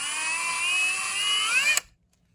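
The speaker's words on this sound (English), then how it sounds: "take it and drill it at an angle" A power drill whines steadily at high speed for under two seconds, its pitch wavering slightly as it bites into the plastic of a 1:64 toy monster truck, then cuts off abruptly.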